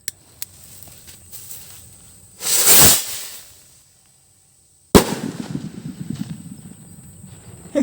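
Laguna firecrackers set off outdoors: a hissing fuse, then a sharp loud bang followed by a burst of crackling pops and rattling reports, close and unaccompanied by speech.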